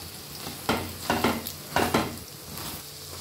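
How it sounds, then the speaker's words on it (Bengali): Eggs broken into pieces fry in hot oil in a pan for egg curry, with a few sharp stirring scrapes and bursts of sizzle over a low, steady background and no voices. "ভেঙে ভেঙে ভেজে নেব।"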